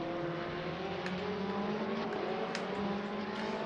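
A race car engine in Le Mans Ultimate at the Portimao circuit, droning steadily and rising in pitch under acceleration, with faint sounds of other cars nearby.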